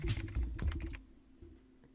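Subtitle text gets typed on a computer keyboard, a short quiet run of close key clicks that stops partway, with a faint low hum underneath and one more click at the very end.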